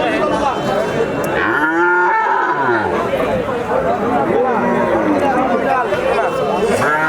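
A one-year-old Australian cross calf at a calf sale moos repeatedly in long, drawn-out calls, close and loud, over steady background crowd chatter and people talking.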